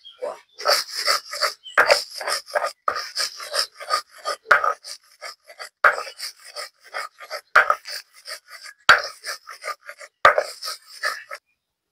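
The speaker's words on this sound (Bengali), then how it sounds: "কাঁচামরিচ, জিরে, সর্ষে, এর ভিতর আমি চান্দা মাছগুলো বেটে নেব।" Small chanda fish are ground into a paste with green chilli, cumin and mustard, making repeated close rasping, scraping strokes in an uneven rhythm with brief knocks, with no voices.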